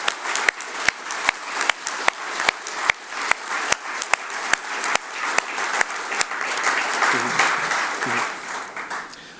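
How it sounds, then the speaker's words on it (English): Audience applause at an AGM, with sharp individual claps standing out at first before blending into a fuller, sustained round from the assembled crowd. "I think we all owe you a massive round of applause"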